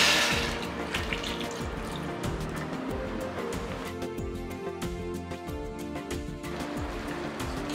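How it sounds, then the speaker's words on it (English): Water pours steadily into a pot of crabs nearby, a continuous gurgling splash that shifts in tone partway through. "We'll now add a glass of water and let the crabs cook."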